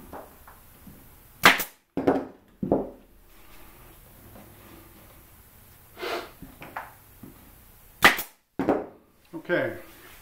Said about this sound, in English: I come along and I put a little staple there to keep it in place.